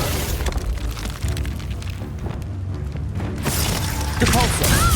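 The Reducto blasting spell in Hogwarts Legacy: a loud, sustained booming explosion with crashing, shattering debris, dense and close, with game effects layered under it and no clear pause.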